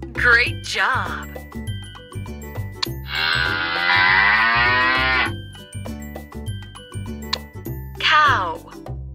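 A cow moos once, loud and close, as a long sustained call in the middle, set against steady children's music with bell-like chimes and short vocal sounds before and after.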